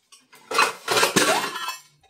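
A ladle pouring oil into a metal pressure cooker gives a short run of clinks and a sizzling metallic clatter lasting about a second and a half, fairly loud and close, with no talk.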